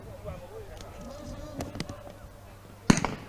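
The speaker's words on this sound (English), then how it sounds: "that bang was a star flare, a green one." A green star flare goes off with a single sharp, loud bang near the end, signalling the start of a race at the IDBF Dragon Boat World Cup in Fuzhou, China. Faint crowd voices and outdoor murmur come before it.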